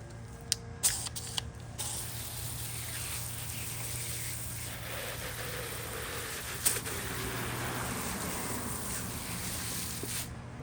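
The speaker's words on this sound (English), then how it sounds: "Since I don't have that and I just have the power of the hose, we're gonna do that instead" A garden hose sprays water steadily over a Lasko 3733 box fan to rinse it, a continuous close hiss lasting the whole stretch after a few brief clicks and knocks at the start, with a low hum underneath.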